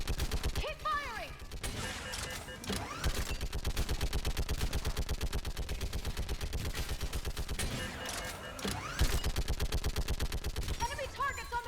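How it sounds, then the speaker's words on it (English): Rapid, sustained gunfire from Mass Effect 3 rattles in dense, near-continuous bursts, with voices calling out over the shooting. "Keep firing!"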